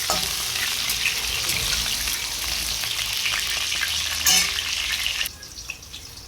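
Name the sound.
potatoes frying in oil until reddish-brown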